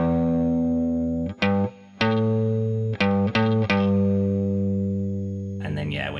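A distorted electric guitar plays a short beginner riff with repeated picked notes and chords in quick succession, each ringing on, then a lingering held note and scratchy string noise at the close.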